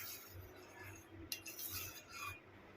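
A spoon stirs ragi porridge as it gently simmers in a pot, giving faint scraping and a few soft metallic clinks against the sides, quiet and close with no talking.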